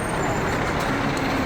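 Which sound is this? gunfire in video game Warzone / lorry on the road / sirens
lorry on the road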